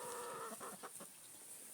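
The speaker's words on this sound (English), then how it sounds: "There's the chicken behind us." A chicken clucks on a muddy farm, a few soft, quick clucks heard faintly at some distance over quiet outdoor background.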